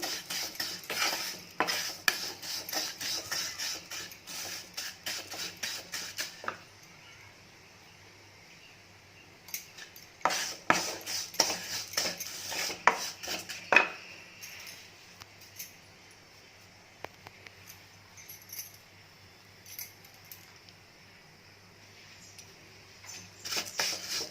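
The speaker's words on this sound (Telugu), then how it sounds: "ఇందులోకి 1 కప్పు సేమియాని యాడ్ చేస్తున్నాను. లో ఫ్లేమ్లో బాగా వేయించుకోవాలి." One cup of vermicelli roasting in a pan over a low flame, stirred in bursts of busy scraping and clinking, with a quiet pause in the middle before the stirring picks up again, close and fairly loud.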